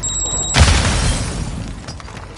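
Grenade explosion in Warzone 2.0, a sudden loud boom with a crackling burst that rolls off into a fading rumble and debris noise.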